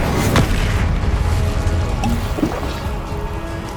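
Incendio fire spell cast in Hogwarts Legacy, a loud booming burst with dense low rumble and crackling texture that holds steady before easing off slightly.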